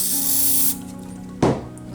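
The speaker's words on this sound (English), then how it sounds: "Now, I'll then just clean the flux off with this again. Just got a little spray of this." Aerosol spray cleaning flux off a pinball machine circuit board: a loud hissing burst lasting under a second, a pause with a low background hum, then a second short sharp spurt, close up.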